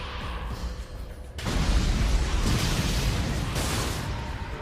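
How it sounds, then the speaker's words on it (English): A sudden loud blast in the Fist of the North Star video game breaks in after a quiet ambient stretch, followed by a sustained roaring, crackling rumble that lingers for several seconds with no voices. "There's been an explosion!"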